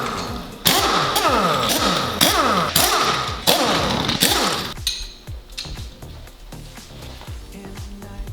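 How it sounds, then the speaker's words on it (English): Rapid mechanical rattling and hammering bursts of an impact wrench as transmission bolts come off a Nissan 300ZX engine being separated from its 5-speed manual gearbox, loud and repeated in short runs, then quieter clanks of loosened hardware. "I'm just gonna go ahead and impact the tranny bolts off"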